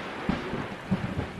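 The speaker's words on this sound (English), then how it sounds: "Oh, it's a storm." A thunderstorm in the video game Stray: a steady wash of rain and wind with a couple of low thunder rumbles rolling through, no voices.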